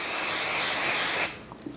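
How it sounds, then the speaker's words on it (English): An aerosol can of spray adhesive hisses steadily onto an embroidery hoop for over a second, then cuts off abruptly into near quiet. "So you want to shake it a little bit"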